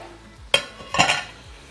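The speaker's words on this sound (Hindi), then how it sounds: "ये इसमें हमने चिकन शामिल किया और चिकन की तेज़ आंच पे भुनाई होगी।" About a kilo of chicken hits a pan over high heat for biryani, two loud close bursts of sizzling and clattering as it is tossed, then fading frying.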